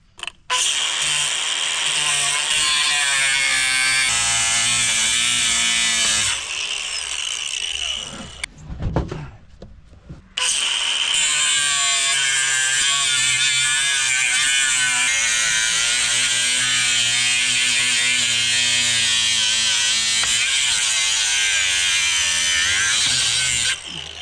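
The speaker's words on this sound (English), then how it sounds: "You can hear this little pop when I cut through the bead." A battery-powered cutting tool whines steadily and loudly close by as it cuts through the rubber bead of a scrap tire on an alloy rim, broken by a brief pause and a small pop before the high drone resumes.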